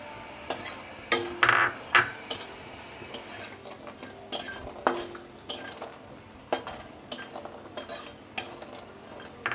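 Small pieces are fried in oil in a pan for a vegetarian bottle gourd dish, with repeated scraping and clinking strokes of a utensil stirring them over a low sizzle, close by with no voices.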